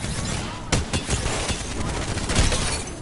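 Gunfire in a console shooter video game: rapid overlapping shots and bursts in a busy firefight, several sharp loud cracks standing out over continuous shooting, close.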